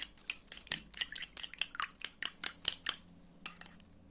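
Blendax toothpaste and sugar slime mixture being stirred in a bowl, a quick series of close, crisp sticky scraping and clicking strokes in an uneven rhythm, fairly quiet and with no voices.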